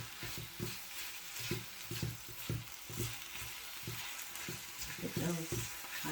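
Impossible Burger plant-based meat cooks in a pan for spaghetti, giving a steady, close frying sizzle with a few soft thumps and scrapes scattered through it.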